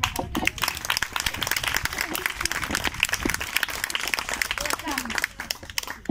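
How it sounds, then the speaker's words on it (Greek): Scattered, uneven clapping from a small group after a theatre workshop scene at a summer camp, with voices talking over the applause throughout. "Και ένα χειροκρότημα."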